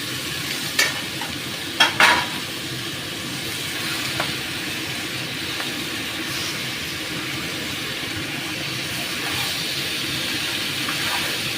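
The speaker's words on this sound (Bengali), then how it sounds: "শুধু নুন আর হলুদ দিয়ে কিন্তু নাড়ছি" Pui shak greens being stirred in a pan with a hilsa fish head, salt and turmeric, giving a steady soft sizzle and a few sharp clinks of a spatula early on, with no talk.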